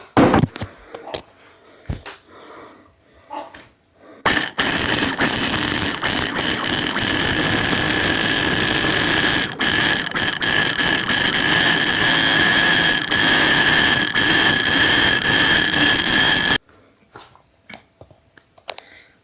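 A kitchen grinder's motor with its blade fitted chops food, first clattering and starting in short bursts, then roaring loudly and evenly for about twelve seconds before cutting off abruptly.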